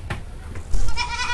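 A Jamaican ram goat gives a few brief bleats, followed by a louder, breathy noisy stretch close to the listener. No one is talking.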